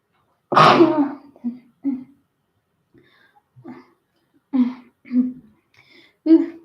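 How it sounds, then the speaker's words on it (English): A single loud sneeze up close, followed by a few soft breaths and short vocal noises, then quiet murmuring. "I sneezed."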